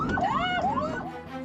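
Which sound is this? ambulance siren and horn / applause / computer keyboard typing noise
ambulance siren and horn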